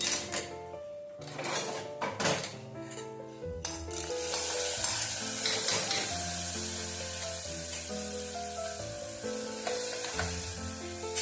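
Curry leaves drop into hot oil for the tempering of a papaya erissery, a Kerala dish, giving a loud, sustained sizzle after a few stirring clatters, with strong tonal background sounds throughout.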